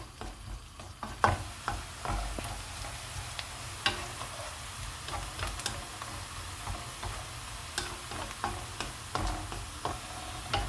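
Onions frying and being stirred in a pan until golden for a Kashmiri white chicken handi curry, with steady soft sizzle and repeated scraping stir strokes, close and alone.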